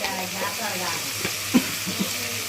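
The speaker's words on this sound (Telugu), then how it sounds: "టమాటా ముక్కలు వేసుకొని వాటిని కలిపుకుందాం" Tomato pieces being stirred as they fry in a pan: a soft, steady sizzle runs throughout, broken by a few light clinks of the spoon against the pan.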